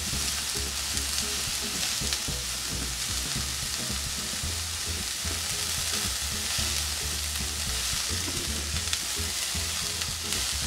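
Mixed vegetables with carrot fry in a pan for spaghetti with vegetables, with a steady close sizzle and frequent stirring scrapes and taps from a utensil throughout, with no talking.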